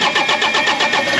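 A Bobcat diesel engine, running on a single replaced fuel injector after a fuel-system repair, cranks and catches with loud, rapid rhythmic pulses close by.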